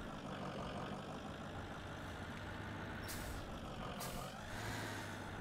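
A snow plow truck in the Snow Plow video game rumbles with a steady engine drone, and two short sharp air-brake hisses burst out about a second apart. The sound is fairly faint.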